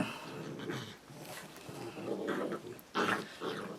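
Several dogs bark and growl in close, agitated bursts that rise and fall over a few seconds, with a sharper, louder flurry near the end and no talking.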